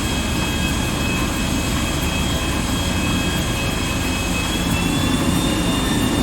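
A broken-down airplane engine in GTA 5 roars as a steady, loud jet-like drone with a high whine, continuous and alone without any talk.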